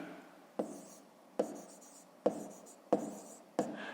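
Someone writes by hand on paper during a fifth-grade math lesson. Five short, quiet scratchy strokes come at roughly even intervals, with no talking.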